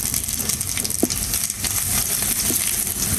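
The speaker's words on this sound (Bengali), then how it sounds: "এবার আমি দেবো একটু জিরা, এই যে জিরা ফোড়ন দেবো" Cumin seeds tempering in hot oil, a soft steady sizzle with a couple of faint clinks of a utensil, close by and continuous, with no voices.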